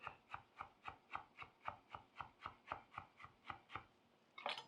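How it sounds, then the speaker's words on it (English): A knife mincing parsley on a cutting board gives a quiet, even series of about a dozen crisp chops in a steady rhythm, ending in a brief scraping sweep, close and without speech. "I'm just gonna mince her right up"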